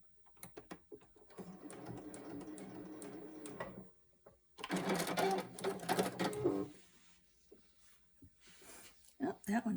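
A sewing machine stitches a quilt block in short, close runs, pausing and slowing for a few stitches at a time, with a person speaking softly between the bursts.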